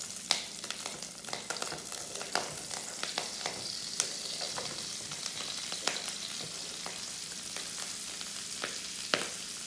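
Halved Brussels sprouts frying in bacon grease, a continuous close sizzle with scattered sharp pops and spits throughout, no voices.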